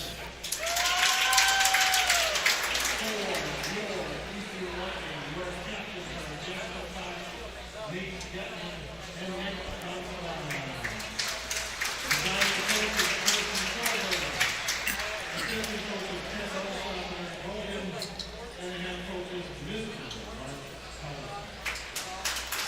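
Large standing-room crowd at a boys swimming section preliminary meet, applause and cheering swelling and fading over an echoing pool hall, with an announcer's voice talking over the crowd noise throughout.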